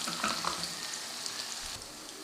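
Onion frying in hot oil with ginger and garlic, a steady close sizzle with light stirring scrapes throughout.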